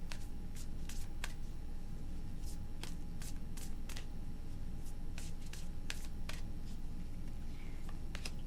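Tarot cards being shuffled by hand, a run of sharp papery riffles and flicks that comes in irregular bursts, close and fairly quiet with no talk over it.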